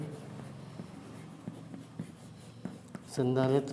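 Soft scratchy strokes and taps of writing on a board during a physics lecture come in short bursts, fairly quiet, before a voice starts speaking at the end.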